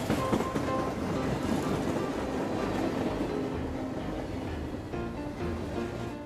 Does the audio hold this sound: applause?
no